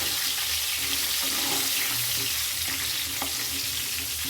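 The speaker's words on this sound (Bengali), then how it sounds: "এই সময় গ্যাসটা একটু কমিয়ে রাখবো যাতে আলুগুলো ভালোভাবে ভাজা যায়" Potatoes fry in a pan of hot oil over a lowered gas flame while making a Bengali-style mutton curry, giving a steady, dense, close sizzle that runs unbroken throughout with faint stirring and no talk.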